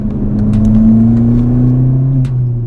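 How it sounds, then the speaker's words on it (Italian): A Ford Fiesta ST Mk7 turbocharged engine revs hard and steadily toward 5000 rpm with a deep exhaust drone, the pitch holding strong before easing off near the end. "Il turbo si sente il giusto, soprattutto quando si sale verso i 5000, si fa la cambiata cattiva"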